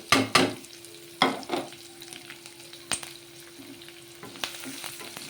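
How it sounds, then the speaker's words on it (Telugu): Chopped onion frying in a pan for okra masala curry gives a soft sizzle, broken by several sharp scraping and stirring clatters at uneven intervals. "ఇవి ఎర్రగేంత వరకు వేపుకుందామండి మంచిగా ఉల్లిపాయ మగ్గేంత వరకు వేపుకుందాము"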